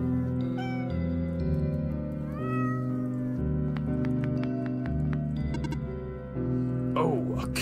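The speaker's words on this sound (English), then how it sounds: "Oh, a cat." A cat meowing in the video game OneShot, several close drawn-out meows and caterwauls over a sustained musical background, with a longer wavering cry near the end.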